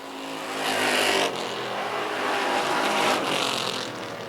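Race cars howl past toward the checkered flag, two swelling pass-by surges of engine noise rising and fading over a steady roar, with no talk.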